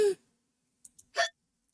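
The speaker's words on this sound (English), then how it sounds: "You watch baffled as the cat continues to hiccup" A cat in an indie horror video game hiccups softly, with a small hiccup sound and a louder one following after a short pause in otherwise quiet surroundings.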